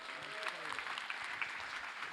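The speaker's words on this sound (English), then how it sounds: "So please, one more round of applause for them." Audience applauding Prusa developers and software engineers at a consumer 3D printing launch event, a short steady burst of clapping from a crowd with some chatter under it.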